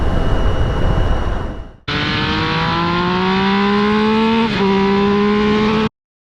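Triumph motorcycle engine on the road: a loud steady engine roar with wind rush, a brief dip, then rising tones as it accelerates through a gear, ending abruptly.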